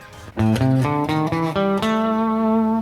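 After a brief pause, an electric guitar plucks the six-note blues scale upward, one note at a time, closing on a long sustained tone.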